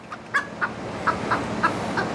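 A hen kept in a chicken tractor gives a series of short, agitated clucks and squawks at an uneven rhythm, fairly close and clear over a quiet outdoor background with no talking.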